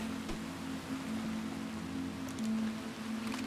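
Steady rain in the Red Dead Redemption 2 game world, a soft, even hiss of falling drops over a low hum, continuous and moderately quiet, with a faint tick or two.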